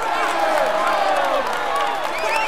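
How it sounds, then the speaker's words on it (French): A crowd at the Tour de France applauds and cheers for a cyclist wearing the green jersey, a continuous loud wash of clapping, shouting voices and whistles at an even level. "vous pouvez l'applaudir bien fort"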